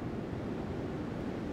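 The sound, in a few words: ocean waves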